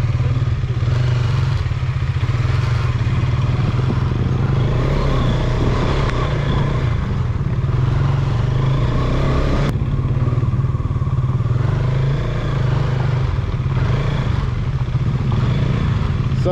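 KTM off-road motorcycle ridden on a night dirt trail near Kanakpura, with steady loud engine drone and low rumble throughout, plus scattered clatter and thumps from the rough terrain.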